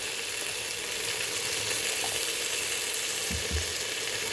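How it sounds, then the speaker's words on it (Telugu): Ginger garlic paste fries in a pan for a chicken curry with a steady, fairly faint hiss and sizzle. A few soft low knocks come through it. "Ginger garlic paste వేస్తున్నానమ్మా."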